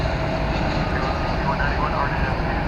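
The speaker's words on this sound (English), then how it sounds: "That United Airbus A319 coming in from Houston Intercontinental Airport." A United Airbus A319 arriving from Houston gives off a steady, broad jet engine roar at moderate distance, with a voice talking over it throughout.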